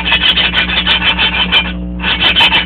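Engine valve being lapped with grinding compound on a Briggs 5 hp Raptor engine, a close, loud rhythmic gritty rasping in quick back-and-forth strokes with a short pause near the end.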